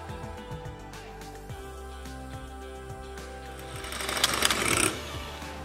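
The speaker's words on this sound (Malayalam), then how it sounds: "അപ്പൊ ഒട്ടും എഗ് യോക്ക് ഇല്ലാതെ തന്നെ എഗ് വൈറ്റ് ബീറ്റ് ചെയ്തെടുക്കണം." A hand beater whips egg whites with no yolk, a steady mechanical electric whir with a repeating motor drone that swells louder near the end, close and alone.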